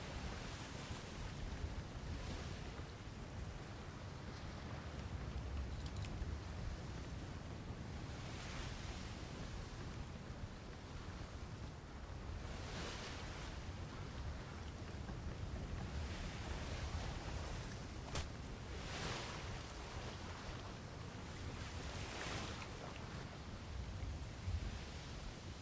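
Wind blowing at sea aboard a sailing ship in a Royal Navy roleplay game: a steady, broad rushing roar with occasional stronger gusts running throughout, fairly soft, with no voices.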